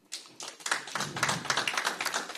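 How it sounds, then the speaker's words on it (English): An audience at a Nigerian agribusiness investment event breaks into applause, starting with a few scattered claps that quickly swell into a steady round of clapping, moderately loud and without speech. "A round of applause for Ndidi."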